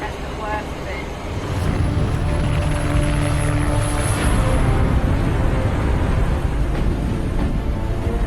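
Aircraft engine droning steadily in flight, heard from inside or beside a plane before a jump, a loud continuous broadband roar that swells after the first second and holds, with talk mixed in.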